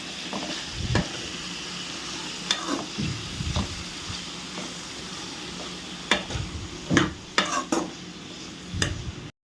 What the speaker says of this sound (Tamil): இந்த எண்ணெயில் இந்த பாவக்காய் எல்லாமே நல்லா படுற மாதிரி நல்லா வதக்கி விட்டுக்கோங்க.